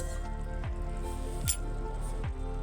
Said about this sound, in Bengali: তার আগে শাকটাকে আলু বেগুনের সাথে ভালো করে ঘেঁটে নেব।